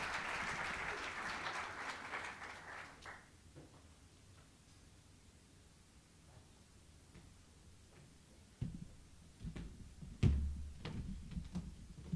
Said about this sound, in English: A round of applause, please, for our moderator and panelists.